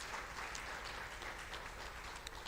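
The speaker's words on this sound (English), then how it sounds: "let's give them a big round of applause." Audience at a symposium session applauding, a dense continuous patter of many hands clapping heard from within the room, fairly soft and steady for a couple of seconds.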